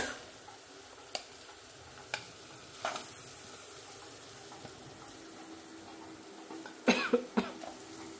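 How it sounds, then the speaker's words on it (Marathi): Coughing from the fumes of chili thecha being cooked: a few faint, brief coughs early, then a quick close cluster near the end, against quiet kitchen background. "ठसका येतोच कारण की आपण ठेचा बनवलेला आहे"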